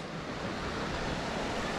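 River water rushing at Aira Force in the English Lake District, a steady broadband wash of flowing water with no breaks, moderately loud and unbroken throughout.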